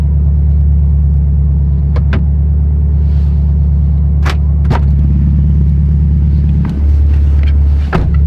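A built Subaru STI engine while driving, a loud steady low rumble heard from inside the car, with brief clicks and a short dip and swell as the engine note shifts near the end.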